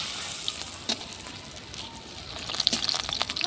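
Corn pakoras deep-fry in hot oil, giving a steady close sizzle with scattered crackles and pops that grow busier and louder toward the end.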